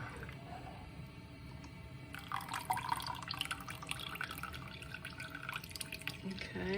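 Mozzarella cheese curds and whey drain into a cheesecloth-lined colander, a soft trickle and patter of dripping liquid that grows busier midway, close and faint, with a quiet voice underneath.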